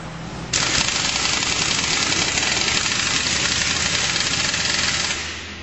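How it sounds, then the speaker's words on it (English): An impact wrench hammers loose the variator fan on a GY6 scooter, a loud, steady buzzing rattle that starts abruptly and runs unbroken for about five seconds before cutting off, close up with no talk. "In order to do this, you'll need an impact wrench, and you'll have to hold the fan."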